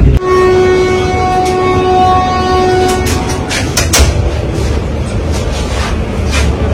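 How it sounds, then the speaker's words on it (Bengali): A Vande Bharat Express train running between Howrah and Bolpur, its loud steady rumble filling the cabin, with a long horn blast early on and rhythmic rail clatter throughout, heard from on board. "আমরা এই প্রথম বন্দে ভারতে চড়ছি। এটা হচ্ছে নিউ জলপাইগুড়ি বন্দে ভারত।"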